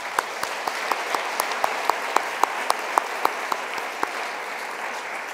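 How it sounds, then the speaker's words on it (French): An audience applauds at a university event, a continuous bed of clapping with a few sharper individual claps standing out in a loose rhythm, moderately loud and without speech. "On va les applaudir aussi."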